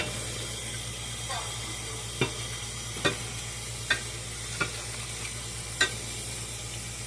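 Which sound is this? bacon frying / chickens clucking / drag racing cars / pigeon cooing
bacon frying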